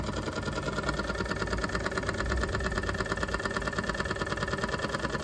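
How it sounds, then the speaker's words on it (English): A hydrogen-gas-powered steam engine runs steadily, producing a continuous rapid chuffing, mechanical rhythm at an even pace, close and moderately loud with no talking. "So there you go. Hydrogen powered steam engine."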